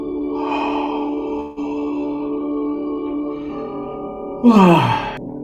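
A person yawns during a guided stretching and relaxation exercise: a long, drawn-out breathy exhale rising into a louder, voiced sigh near the end, close and fairly loud with no talking.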